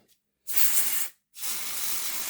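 Cleaner sprayed onto the pickups of a Hornby 0-6-0T Class 3F Jinty model locomotive, two close hissing squirts from a spray bottle, the first about half a second long and the second over a second, separated by brief silence.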